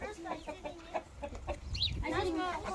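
Chickens clucking in a farmyard with sheep about, a few short soft clucks scattered through, and other low sounds underneath.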